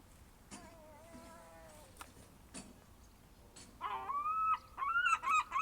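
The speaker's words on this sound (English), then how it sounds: "two gulls sitting behind me, they keep squawking." Two gulls on a beach give squawking calls, a few scattered cries early on, then louder, repeated harsh squawks close by toward the end.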